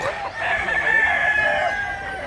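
A rooster crows once in a long sustained call lasting about two seconds, close and fairly loud, with no talk over it; the bird is a handsome gamefowl on offer at a rural poultry sale in Mantalungon, Cebu.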